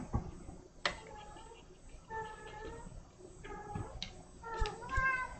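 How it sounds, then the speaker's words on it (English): A cat meows several times at close range, drawn-out calls spaced a second or so apart over a quiet room. "If you can hear a cat meowing,"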